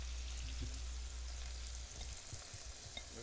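Beef pepper steak in a soy sauce, Worcestershire, brown sugar and garlic marinade sizzles in a hot pan. It crackles and hisses steadily up close, with scraping stirs near the end and no talking.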